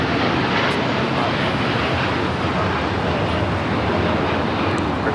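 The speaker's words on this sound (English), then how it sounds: "That was Air Tahiti Nui Flight 8 taking off to Paris" An Air Tahiti Nui Boeing Dreamliner jet thunders down the runway on takeoff at LAX, a dense, continuous broadband roar that stays loud and steady throughout.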